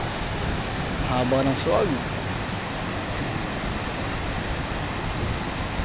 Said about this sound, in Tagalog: Ito po nakasanayan paglalaba dito sa tabing ilog.